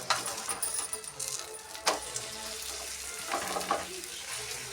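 Ragi flour roti cooks on an oiled tawa with a soft, steady sizzle, broken by a few light scrapes and taps near the pan.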